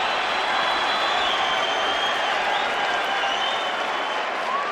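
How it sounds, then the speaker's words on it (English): Boxing arena crowd at the Roy Jones Jr vs Felix Trinidad fight roars with sustained applause and cheering after a knockdown, a dense, steady wash of clapping and shouting throughout with no clear voices standing out. "Crowd likes the knockdown"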